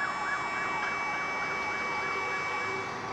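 An ambulance siren wails steadily, its rising and falling tone repeating at a moderate distance over low traffic rumble.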